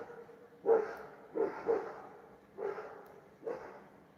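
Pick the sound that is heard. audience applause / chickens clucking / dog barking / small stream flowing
dog barking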